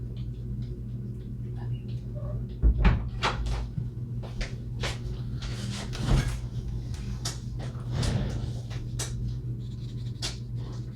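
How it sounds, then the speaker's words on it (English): A small cat digs and scratches at the tray under its water bowl, giving a few soft, irregular scraping bursts close by over a steady low hum, with no talk. "Don't mind the little cat scratching."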